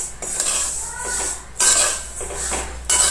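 Sesame seeds roast over a medium gas flame while a metal spoon stirs them in a pan, producing rhythmic scraping sweeps with sharp clinks at roughly regular intervals, close and moderately loud.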